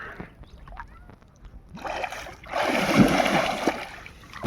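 A person dives into a pond to catch fish, making a close splash and rushing churn of water after a few quieter dribbles and gurgles.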